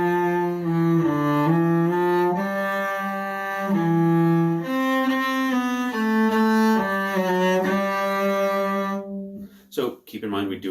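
A cello plays the May Time etude from the Suzuki second-position studies, measures 9 to 12: a sustained, legato phrase of bowed notes at a steady pace, close and clear, ending in a few brief plucked or muted sounds.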